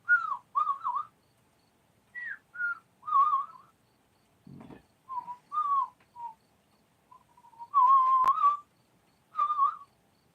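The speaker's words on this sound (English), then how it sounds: "Whistle me a song." A man on a live stream whistles a tune in short melodic phrases separated by pauses, close and clear, with a brief rustle midway.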